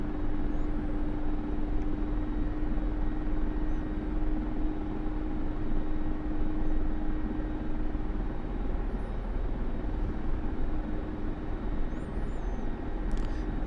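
A Mi-24 Hind attack helicopter in the DCS flight simulator drones steadily with a dense, constant rotor and turbine roar, loud and unbroken, with no talk over it.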